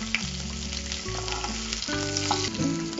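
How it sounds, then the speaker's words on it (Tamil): Onions frying in oil for horsegram masala rice: a constant crackling sizzle under steady tonal background music, with no talking. "இப்ப வெங்காயம் பொரிஞ்சிருச்சு,"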